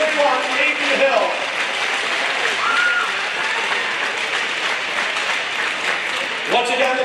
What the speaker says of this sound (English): Let's have a nice round of applause for all of our seniors and Captain number 31, Aiden Hill.